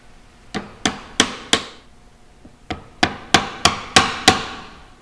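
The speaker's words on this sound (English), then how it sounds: "one at a time, gently tap them into the holes on the tailpiece" Metal string cups are tapped one at a time into the holes of a wooden cigar box guitar tailpiece, giving two groups of sharp, close hammer taps, four then six, each ringing briefly and decaying.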